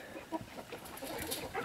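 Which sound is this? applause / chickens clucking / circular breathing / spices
chickens clucking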